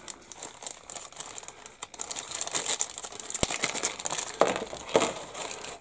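A plastic Ziploc bag crinkles and rustles up close while plastic model sprue parts for a 1/700 ship and dry dock kit are handled inside it. The crackles are continuous and irregular, growing busier and louder toward the end, with no voices.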